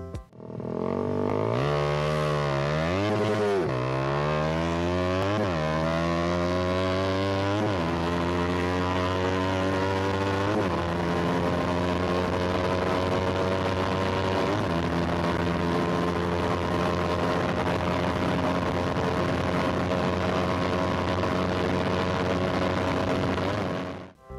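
A Suzuki Satria FU motorcycle engine revving high, close and loud, climbing through several rising pulls with brief dips between them, then holding a sustained high-pitched scream for the rest of the clip.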